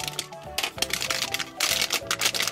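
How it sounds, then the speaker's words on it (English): Scissors snipping open blind bag toy packaging, producing a run of crisp cuts and plastic crinkling, close and fairly loud. "You gotta cut these bags open."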